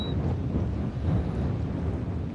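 Steady broadband wind roars and buffets against the microphone on a fishing outing, a constant low rumble with no pauses and no voices.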